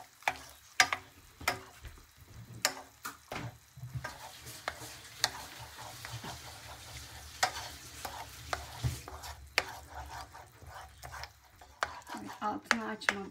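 Goose egg frying in a pan while being stirred, with steady sizzling and repeated scraping clicks of the utensil against the pan, up close; a voice speaks briefly.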